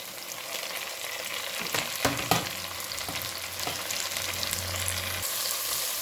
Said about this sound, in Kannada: ಈಗ ನಾನು ಟೊಮೆಟೋನ ಹಾಕೊಳ್ತೇನೆ